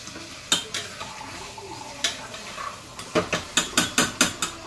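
Metal clinks and scrapes of a utensil stirring chicken in a pan, sparse at first then a quick run of regular taps, with a faint sizzle underneath.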